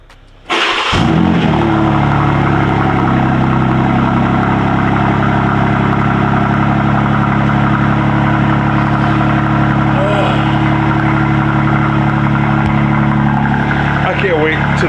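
A BMW G87 M2 fires up from cold with a sharp burst of starter and engine roar, then settles into a loud, steady, rumbling high idle that holds close and continuous to the end.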